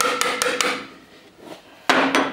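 A hammer taps on hardened valve parts of a YaMZ-238 diesel cylinder head: a quick cluster of three sharp metallic strikes, a quieter pause, then two more ringing blows, close and alone.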